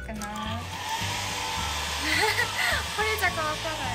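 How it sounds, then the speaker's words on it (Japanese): A faulty hair dryer with weak airflow blows continuously, a steady close whirring roar, used to dry clothing such as tights, while a voice speaks over it. "不良のドライヤーなんで風圧はちょっと弱いかな。"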